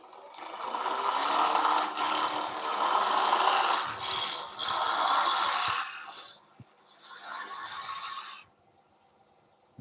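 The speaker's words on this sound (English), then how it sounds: "Just going to create a shape. Rough down with my skew first." A skew chisel roughs down a spinning softwood blank on a wood lathe for a Christmas nativity piece, making a loud, rough scraping hiss in long bursts broken by short pauses, then it falls quiet near the end.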